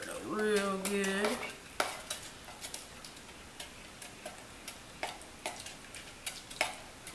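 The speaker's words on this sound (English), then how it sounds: "Now I'm gonna get a spoon. Stir it up." A spoon stirs barbecue sauce for applesauce-sauced chicken, giving a series of light, scattered clinks and scrapes against the container, close and fairly quiet, with a brief tonal squeak near the start.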